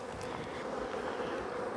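Honeybees droning from an opened hive during fall chores, a close, steady, low buzz with a few individual bees whining past, no voices.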